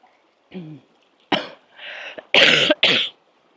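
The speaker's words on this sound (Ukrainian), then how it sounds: "Трохи кашель є" A small throaty sound, then a series of dry coughs, close and fairly loud, ending in two forceful back-to-back coughs.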